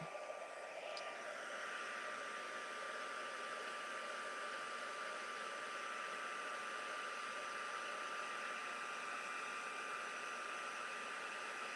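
Heat tool blowing steadily to warm embossing powder on a card, a continuous faint airy whir with an even hiss and no talking.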